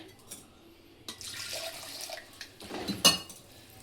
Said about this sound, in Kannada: ಸ್ವಲ್ಪ ನೀರು ಹಾಕಿ ಕಲಸಾಕ್ತಿದ್ದೀನಿ.